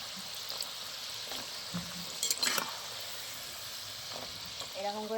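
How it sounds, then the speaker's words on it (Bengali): Nimki, a Bengali savoury pastry, deep-frying in oil over low to medium heat, giving a steady soft sizzle and bubbling with a few brief clinks, fairly quiet and with no one talking. "এরকম করে লাল লাল করে ভেজে নিয়েছি নিমকি"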